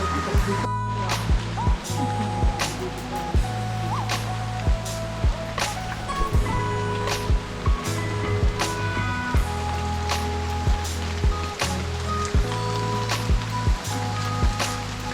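Steady rain falls outdoors in a lanzones orchard, a continuous wash of drops on leaves and ground with scattered sharper drips, under occasional speech and some low background hum.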